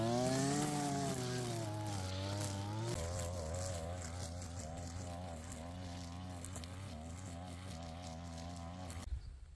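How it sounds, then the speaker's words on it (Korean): A gas string trimmer cuts grass on a slope, its engine running steadily and close throughout, pitch rising and wavering as the throttle and load change, then cutting off abruptly at the end. "요 위에 깎고 정리하겠습니다"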